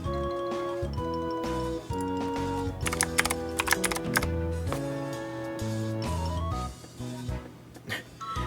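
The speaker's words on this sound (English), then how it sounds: "Yeah, I got a mechanical keyboard earlier this year" Keys clatter on a mechanical computer keyboard in a bursty, irregular run of clicks, heard close but under steady background music from a Pokémon Moon game stream.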